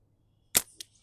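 A single sharp snap from a Slant Spartan slingshot, a SimpleShot x Mark Seljan limited edition, releases its shot, followed a moment later by a smaller click as the ammo strikes the target, both close and brief in a quiet setting.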